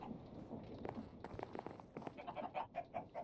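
Chickens in Minecraft crowded into a contraption, a quiet jumble of short clucks and soft footsteps-like taps, faint and close together, with a voice briefly talking.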